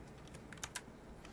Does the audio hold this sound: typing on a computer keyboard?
yes